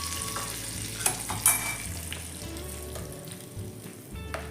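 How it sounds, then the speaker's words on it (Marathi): Hot tadka tempering is poured into raw mango chutney, giving a steady close sizzle with a few sharp crackles and spoon clinks. "तडका याच्यात घालून द्यायचा आहे."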